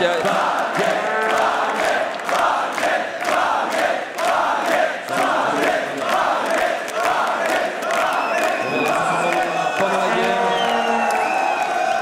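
A huge arena crowd at the League of Legends Worlds 2015 in Paris roars and cheers continuously, with rhythmic chanting bursts and whoops, loud and sustained, commentator voices faintly mixed in.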